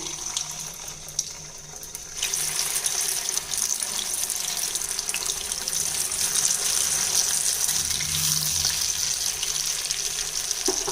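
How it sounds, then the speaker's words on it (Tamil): Raw banana (vazhaikkai) pieces dropped one at a time into hot oil for a fry, giving a steady, loud hiss of bubbling oil that swells around two seconds in and continues without talk. "இப்போ நம்ம இதை காஞ்சிட்ருக்க எண்ணெயில் பொரிச்சிடலாங்க."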